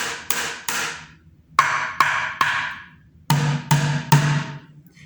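Plastic bucket drum struck by hand with sticks, nine sharp hits in three groups of three, each group stepping down in pitch from high to low, close and alone.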